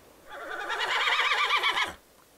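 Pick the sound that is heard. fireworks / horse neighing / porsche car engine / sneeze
horse neighing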